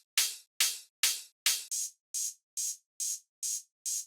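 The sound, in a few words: three layered open hi-hats in acid techno drums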